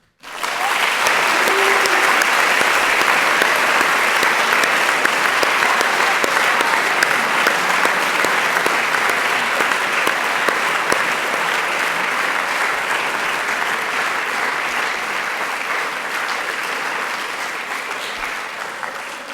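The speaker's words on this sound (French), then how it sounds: "Ils méritent tous nos applaudissements." Sustained applause from an audience at a school ceremony, dense steady clapping starting abruptly and continuing for about nineteen seconds, fading slightly toward the end, with no talk over it.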